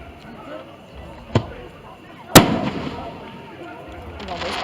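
Fireworks at a Black Gold Jubilee show burst in two sharp bangs, the second louder and closer, against a quiet crowd background with faint voices.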